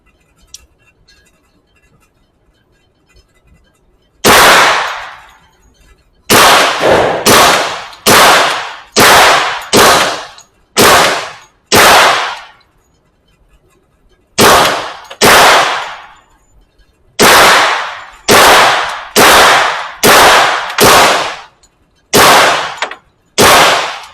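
A suppressed gun fires a long series of loud, sharp cracks, mostly in quick bursts of two to four shots with short pauses between groups, close by and with no talking.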